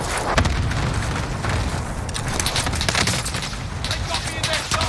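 Cluster strike explosions in the Call of Duty Warzone video game, a loud run of overlapping booms and blasts with gunfire, dense and close, with voices talking underneath.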